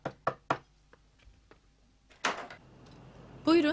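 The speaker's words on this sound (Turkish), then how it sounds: "Kapı çalınıyor" Three sharp knocks on a door ring out in quick succession inside a home, followed by a few faint taps, a door opening and a voice speaking briefly.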